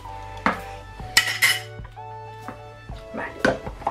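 A spoon scrapes and clinks against a pot while water and vegetables for a vegetable soup are stirred, in short bursts of metallic knocks close by, with a voice speaking between them.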